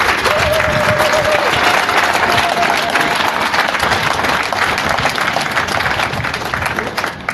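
Strong, continuous audience applause for a provincial director, a dense wash of clapping that stays loud throughout and eases slightly near the end, with a brief tonal hum early on.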